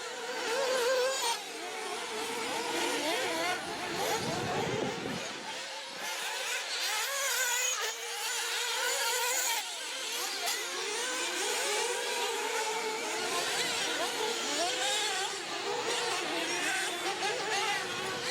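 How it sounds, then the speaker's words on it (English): Nitro RC buggies race on an offroad track, among them a Mugen fitted with an OS engine, their high whining engines buzzing and rising and falling as they pass, with a commentator talking over the racing. "KP runs a Mugen with an OS engine."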